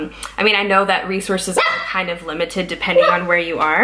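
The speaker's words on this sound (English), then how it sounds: "Sorry, that's my dog." A pet dog barks and yips repeatedly close by in an indoor room, sharp bursts that break up and overlap a person talking.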